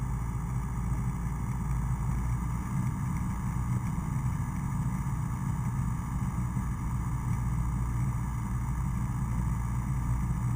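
An engine runs at higher power RPM as a steady, loud, droning hum that holds an even pitch throughout with no breaks or changes in speed.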